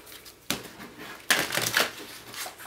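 Tarot cards being shuffled by hand in two brisk bursts, crisp riffling and flicking close up, with quieter card handling between them.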